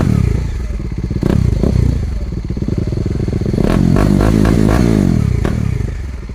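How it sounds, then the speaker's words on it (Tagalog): Up close, a Kawasaki Dominar 400 motorcycle fitted with a Yoshimura R77 slip-on exhaust idles loudly, then is revved several times, its throaty note rising and falling in sharp surges. "meron tayo ditong Kawasaki Dominar 400. Ayan, nag-upgrade siya ng Yoshimura R77 via slip-on guys."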